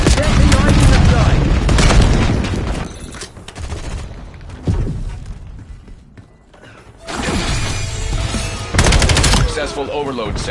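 Loud bursts of machine-gun fire, shattering and booms from incoming fire in the video game Black Ops 7, close and heavy, dropping briefly quiet midway before the barrage resumes, with faint voices mixed in.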